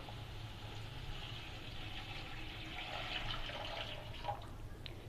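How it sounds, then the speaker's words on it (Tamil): Water runs steadily for several seconds, a continuous splashing pour into a pan of cooked vegetables for rava kichadi, fairly close with a low hum underneath. "நெக்ஸ்ட் தண்ணி சேர்த்துக்கிறேன்."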